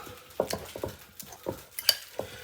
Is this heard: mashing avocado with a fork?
yes